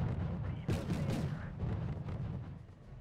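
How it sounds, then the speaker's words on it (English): Mortar and artillery fire in the Wargame: AirLand Battle strategy game, heard as a dense wash of overlapping booming blasts and rumbling explosions that runs steadily without pause. "Let's get our mortars firing here."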